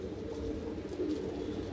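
Black Madrasi pigeons coo softly in a low, continuous murmur. The sound is fairly quiet and steady over a short stretch, with faint background noise and no talk.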